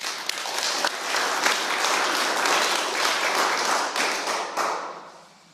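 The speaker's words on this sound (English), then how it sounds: "Let's give them a round of applause" Audience applause for speakers at a recovery program meeting, a lively burst of many hands clapping that holds steady and then fades out toward the end.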